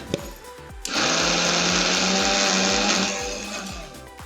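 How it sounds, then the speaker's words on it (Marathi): A mixer grinder grinding lentil batter whirs loudly in a steady high-pitched grinding burst of about two seconds, starting abruptly and winding down, with light clatter around it. "हे आपण आता मिक्सरवर वाटून आणूया"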